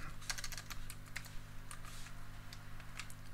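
Rapid irregular keystrokes on a computer keyboard while entering solver settings, crisp clicks close by over a steady low electrical hum, no talking.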